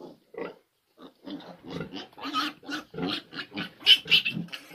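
Nine-day-old piglets squeal and grunt while nursing in a busy, overlapping chorus, with a few short sharp squeals rising above the rest toward the end.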